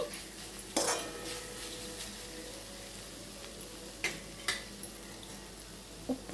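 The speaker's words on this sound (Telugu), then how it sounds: "ఇప్పుడు మనము ఒకసారిని కూరని కలిపేసుకొని" Ridge gourd peel curry stirred in a pan, with a spoon clinking sharply against the metal a few times over a soft steady sizzle, close and without speech.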